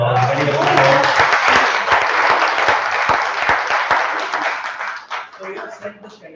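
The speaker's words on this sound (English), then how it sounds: "I think these guys deserve a big round of applause." An audience applauding at a corporate anniversary stage event, dense sustained clapping that swells and then gradually thins out toward the end.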